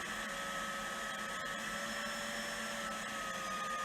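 LarOn 21 roof and tarpaulin hot air welding machine running its blower at reduced airflow, a steady even whoosh with a constant whine, close and unbroken throughout.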